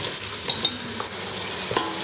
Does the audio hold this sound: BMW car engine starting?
no